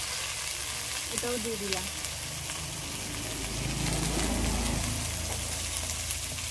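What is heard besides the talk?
okra and green chillies frying in oil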